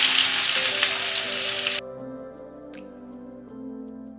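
Onions fry in a pan for a mutton curry with a loud, dense sizzle for nearly two seconds, then it cuts off sharply to a quiet hum with faint ticks.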